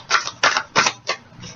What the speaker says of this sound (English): It's so hard to shuffle, though, but it's a great deck.